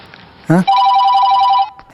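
A lost mobile phone rings out with a steady electronic ringtone for about a second, right after a short voice, then cuts off.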